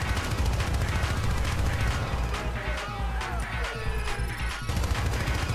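Rapid gunfire in the video game Syndicate, with repeated sharp shots and clattering impacts layered over a constant rumbling game background.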